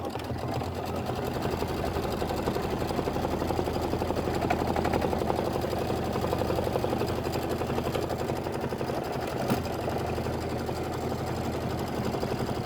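Embroidery machine stitching a satin outline on a Kimberbell autumn scented candles quilt block, a steady continuous mechanical whir with fast rhythmic needle chatter running throughout at close range.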